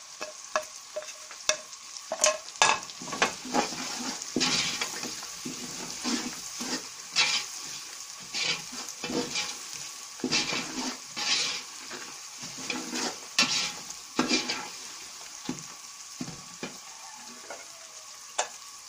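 Vegetable pulao with chilies fries in a pot, a continuous sizzle broken by repeated scraping stirs and clanks of a spoon against the metal over roughly nineteen seconds, with no talk.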